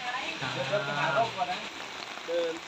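Steady rain falls throughout during a stormy day, a dense, even hiss of drops on surfaces with a few brief tonal sounds mixed in.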